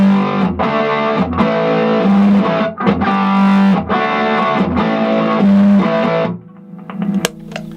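Heavily distorted electric guitar chords played through a distortion pedal ring out loud and sustained in several bursts, then fade to a quieter, cleaner ring at the end.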